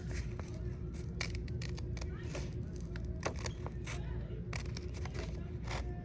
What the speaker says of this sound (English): I'm gonna cut it out